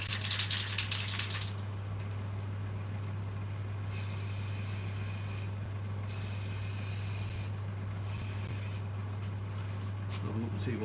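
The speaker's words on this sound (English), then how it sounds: "I usually do a couple of sprays of these." Halfords Appliance Gloss White spray paint sprayed from an aerosol can in several steady hissing bursts of a few seconds each, close and fairly loud over a constant low electrical hum, with some brief rustling at the start.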